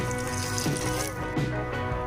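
Water is poured into a rice cooker over soaked basmati rice: a steady, close pour lasting about two seconds, with a sustained tonal background running beneath it.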